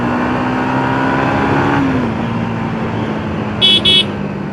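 A new Yamaha motorcycle horn sounds two short loud beeps near the end over a steady engine idle drone.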